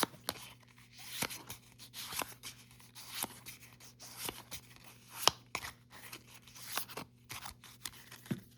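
Riffle-shuffling of Global War 1914 game cards, a run of soft crisp snaps and rustles repeating in short bursts, close and quiet with no talking over it.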